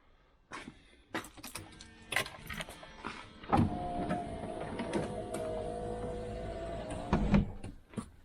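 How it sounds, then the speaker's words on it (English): A few clicks and knocks, then a Range Rover P38 power window motor winds the window up, whirring steadily for about four seconds before stopping with a thump, close up. "I'm going to wind the window up first and foremost"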